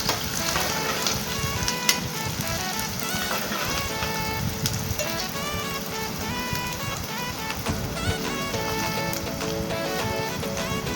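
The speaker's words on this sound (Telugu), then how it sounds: "నూనె బాగా కాగనిచ్చి ఉల్లిపాయలు అందులో ఉల్లిపాయలు వేసుకోవాలి" Onions dropped into well-heated oil for a fish curry sizzle steadily and closely, with crackling spatter like rain on a surface, a few sharper pops, and faint music in the background.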